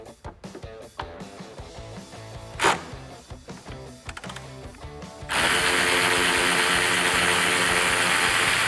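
A hand ratchet fitted with a 10mm socket backs out a headlight bolt on a 2009-2018 RAM 1500, giving rapid, close, crisp clicking that keeps going without a break, no voices.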